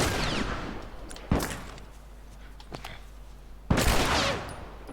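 Gunfire in The Last of Us: two loud, sharp shots a couple of seconds apart, each ringing out with a trailing echo, plus a fainter pop between them over a low ambient hum.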